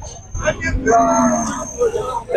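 Cattle at a cattle market in Chattogram give a low, drawn-out lowing call over busy outdoor background noise and nearby voices.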